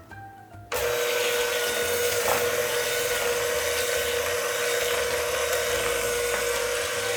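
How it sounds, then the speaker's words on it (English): Hand mixer whirring steadily through vegan brownie batter, starting abruptly after a brief quiet moment and holding a constant motorized drone to the end with a faint scraping texture. "I'm gonna use a hand mixer today because it's gonna be a little bit faster."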